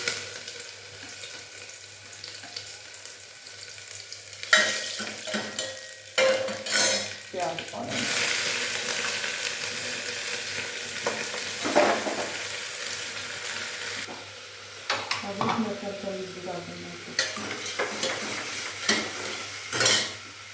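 Cumin and garlic frying in hot oil as a sizzle that comes and goes alongside stirring, pan clatter and brief handling noises, close by with no speech.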